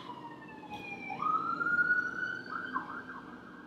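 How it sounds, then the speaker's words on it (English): A rising, wailing emergency vehicle siren sweeps upward and holds a steady high tone, fairly close and loud over faint background rumble, with no talking. "Sirens."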